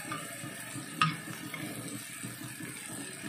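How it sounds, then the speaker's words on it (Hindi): Tomatoes frying over a high flame for dal tadka give a steady close sizzle with stirring scrapes throughout and one sharp clack near the start. "इसे हाई फ्लेम पे कुक करना है"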